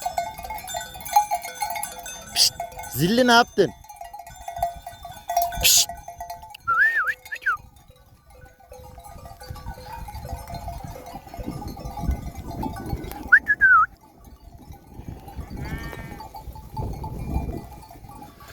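Sheep bleat a few times at moderate distance while a person calls to them, with whistles and outdoor rustling around.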